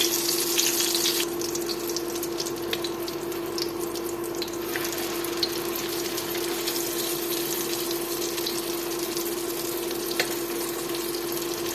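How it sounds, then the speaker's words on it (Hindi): Chicken shami kebabs fry in a pan with a steady, even sizzle and crackle that runs unbroken for about twelve seconds, close and fairly quiet, with no voices. "देखिए कितनी अच्छी फ्राई हो रही हैं"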